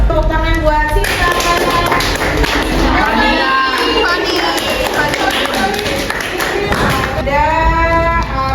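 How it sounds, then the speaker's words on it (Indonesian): Applause for a participant at a workplace public-speaking session, a dense, steady patter of many hands clapping that fills the whole stretch at close range, with some voices mixed in. "Tepuk tangan buat Sita"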